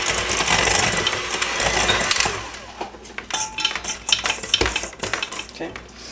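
A spoon stirs brownie batter in a bowl, starting with a steady scraping whirl and then breaking into irregular clinks and knocks against the bowl, close and fairly loud.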